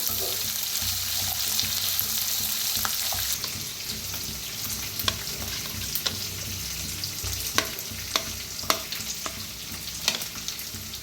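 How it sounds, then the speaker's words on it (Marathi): Onions and potatoes sizzling and frying in a pan for a mixed-lentil dosa, a steady close crackle with occasional sharp pops and stirring clicks, no voices. "इकडे आपला कांदा आणि सगळं भाजलेलं आहे, मस्त असं भाजले"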